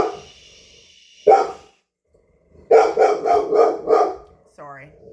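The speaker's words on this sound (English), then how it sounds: "my dog barks at everything that walks by" A dog barks indoors in a rapid burst of several loud, close barks, with a single bark shortly before and a short high whine or yip at the end.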